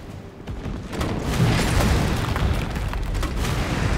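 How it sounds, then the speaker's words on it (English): A grenade explosion in the Resident Evil 3 Remake on PC hits as a loud, sustained booming burst, its rumble swelling after the first second and rolling on densely through the rest, with no talk over it. "we always follow up with another grenade."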